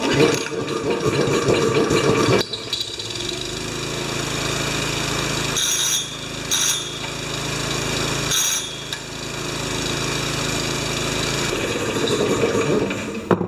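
A Honda engine on a wheelbarrow air compressor starts up and runs, giving a loud, rough mechanical roar with brief dips and bursts of higher-pitched noise as it settles into a steady drone.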